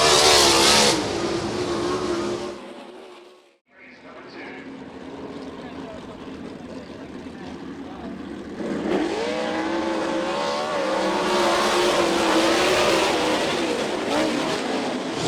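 Sprint race cars roar around a dirt track in Vinton, Iowa, engines howling loudly as they pass, briefly fading then surging again as several cars battle in close succession, with an announcer talking over the noise.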